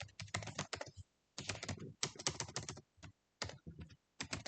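Rapid bursts of close computer keyboard typing while someone writes JavaScript code, clattering keystrokes in short runs separated by brief pauses.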